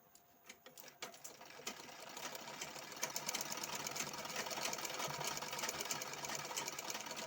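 A sewing machine stitching patiala pants starts with a few uneven clicks, then settles into a fast, continuous mechanical whirr with a rapid rattling rhythm, close and fairly quiet.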